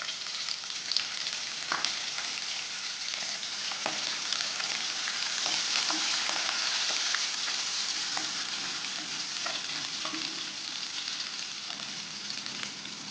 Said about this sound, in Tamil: வெங்காயம் வதங்கும் போதே பச்சை மிளகாவை சேர்த்துக்கோங்க. வெங்காயம் வந்து நல்லா வதங்கட்டும்.